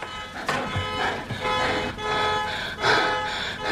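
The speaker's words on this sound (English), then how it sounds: "She pulls out her car keys and tries to set off the alarm." A car alarm set off with the car keys, heard as repeated horn-like toots in short bursts against a steady, fairly loud vehicle background.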